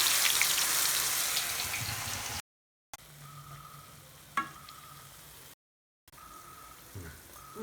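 Perumal vadai frying in oil over a medium flame, with a steady close crackling sizzle broken by two short silent gaps and an occasional sharper pop, no voices.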